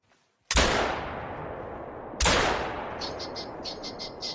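Two loud rifle gunshots from the hunting game theHunter: Call of the Wild, each a sharp blast with a long rolling echo tail, followed by faint chirping bird calls.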